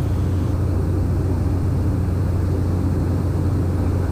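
Steady loud drone of a Cessna Caravan 208 turboprop on approach to land, a continuous deep engine rumble and propeller hum filling the whole stretch with no talk.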